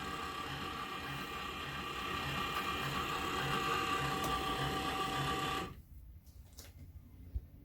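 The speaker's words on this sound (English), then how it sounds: "the motor's a little noisy" An electric burr coffee grinder motor whirs in a steady, close mechanical drone with faint ratcheting texture for about five and a half seconds, then cuts off abruptly, leaving quiet room tone with a couple of small clicks.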